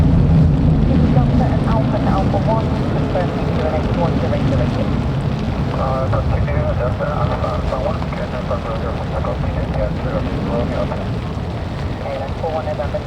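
At Manchester Airport during Storm Claudia, an airplane taxis as a steady engine roar mixed with wind buffeting and rain; the sound stays loud and continuous, with a voice talking over it.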